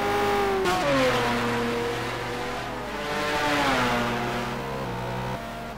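McLaren race car engine in a racing simulator game during an SA simGT Challenge race at Aldo Scribante, a sustained loud engine note climbing in pitch and dropping back at gear changes, heard alone without talk.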